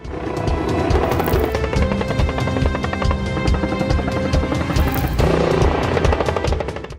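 A T129 ATAK attack helicopter in flight gives a loud, dense rotor roar with a rapid chopping pulse throughout, close and continuous.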